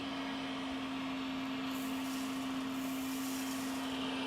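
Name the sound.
vacuum cleaner running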